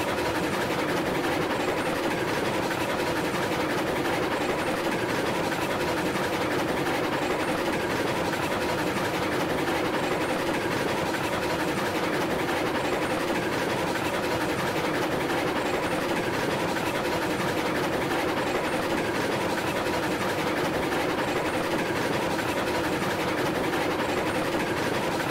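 A steam locomotive in the game Railroads Online runs at full reverser and just over half regulator, giving a dense, steady rumble and rhythmic chugging clatter that holds constant throughout.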